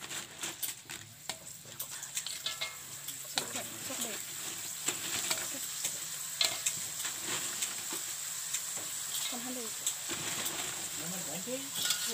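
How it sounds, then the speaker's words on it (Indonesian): Cassava opak crackers frying in hot oil, a low crackling sizzle under frequent clinks and scrapes of a utensil stirring in the pan, with some talk in the background. "sekarang masukkan opak ke dalam minyak panas atau kita goreng"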